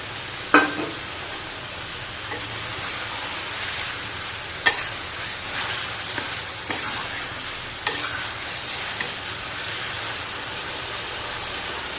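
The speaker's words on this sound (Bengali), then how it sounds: "আমার ডিমের ঝোলটা ফুটে উঠেছে" Egg curry gravy bubbles in a pan with a steady, soft sizzling hiss, while a few faint clinks and taps sound over the simmer.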